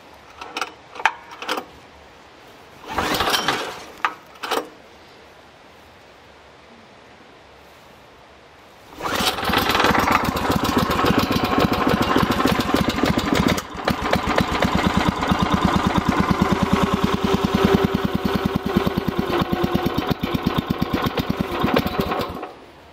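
A newly acquired machine's small engine starts after a few brief bursts and pauses, then runs steadily and loudly at half throttle with a buzzing, mower-like drone for the remaining stretch.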